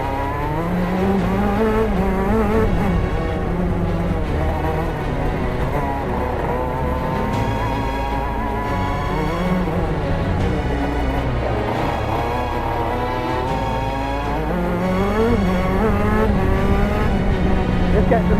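Race kart on cold tyres lapping at Daytona, a continuous close engine note rising and falling with throttle through corners, a driver's voice talking over it at times.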